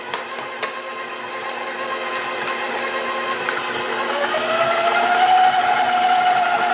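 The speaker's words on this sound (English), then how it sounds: "So one at a time with the mixer running on low." An electric mixer runs steadily on low speed, beating eggs into cookie dough for oatmeal pecan raisin cookies. It makes a constant mechanical whir with a few light knocks, and the tone rises slightly toward the end.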